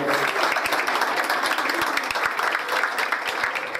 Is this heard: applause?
yes